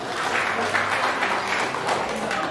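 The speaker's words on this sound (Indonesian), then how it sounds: "Tepuk tangan dulu semua dulu." Crowd of residents applauding, a continuous close wash of clapping with a faint murmur of voices underneath for the full length.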